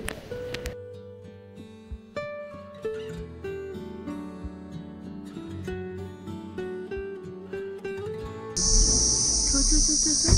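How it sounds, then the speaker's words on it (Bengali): Crickets chirp steadily in a wildlife sanctuary at Muthathi by the Kaveri river, with occasional bird calls; a loud, shrill insect buzz rises near the end. "পাখির ডাক আর ঝিঝি পোকার ডাক।"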